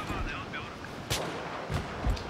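Gunfire in the Battlefield 3 video game: several sharp, loud shots or blasts stand out at intervals above a constant game din, with a voice speaking over the opening moments.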